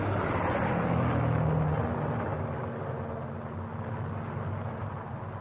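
A battle-damaged Flying Fortress bomber with one engine shot out landing back at base, a loud, steady drone of piston engines that slowly fades a little, heard alone with no talk.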